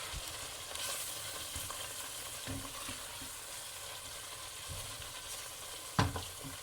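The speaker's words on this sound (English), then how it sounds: "then you just give that a nice stir up" Steady sizzling from a pot of chicken curry with soft scraping stirs, ending in a sharp clack of a utensil against the rim; no voices.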